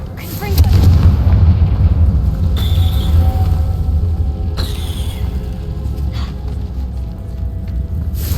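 The Confringo blasting spell in Hogwarts Legacy sets off a loud, close explosion with a deep rumbling boom that lingers and slowly fades, followed by sharper cracks and impacts.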